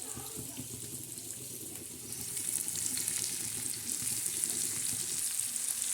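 Steady sizzling of green onions and green chillies frying on a tava, growing louder partway through, with light stirring sounds close by.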